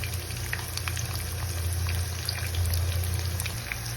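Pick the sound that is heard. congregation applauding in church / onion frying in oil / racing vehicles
onion frying in oil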